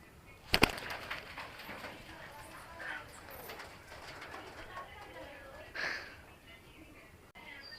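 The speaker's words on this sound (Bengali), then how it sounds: "সবগুলো কবুতর বের হয়ে উপরে চলে গেছে, এখন আবার ঘরে ঢুকতেছে" Pigeons coo softly in the background inside an enclosed pigeon loft, with wing flutters, a sharp knock near the start and occasional shuffling noises.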